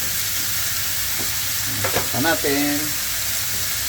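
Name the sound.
chicken frying in its own fat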